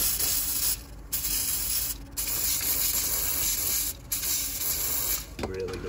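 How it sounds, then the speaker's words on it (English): Penetrating spray hissing in long, loud continuous bursts onto car engine parts on a BMW E90 N43 with low oil pressure, broken by brief pauses between bursts. "we'll put more penetrating spray on now"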